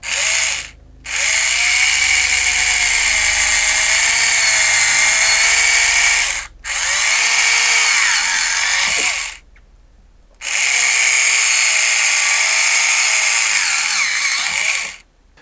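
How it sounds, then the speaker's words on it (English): A power drill whines at high speed in three long bursts with brief pauses between, loud and close, with a steady grinding tone as it bores holes through plastic. "So let's get drilling some holes."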